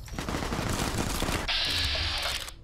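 Rapid, dense gunfire from a video game, Fallout: New Vegas, rattles in a fast continuous burst, then shifts to a steadier high-pitched automatic tone, loud and close throughout.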